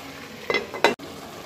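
A metal lid goes onto a pot of duck curry cooking on the stove, with two quick clanks in close succession over a faint background sizzle.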